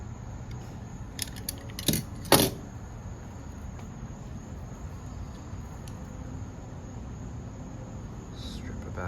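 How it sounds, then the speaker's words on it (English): LED deck light wire being cut down the middle, heard as a few brief, sharp snips close by against a low steady hum, followed by quiet. "Just cut the wire down the middle here."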